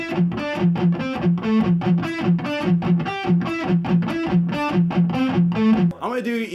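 Heavily distorted PRS electric guitar chugs a metalcore pedal-tone rhythm phrase, steady palm-muted low notes alternating with higher fretted notes, loud and close, ending with a brief ringing chord.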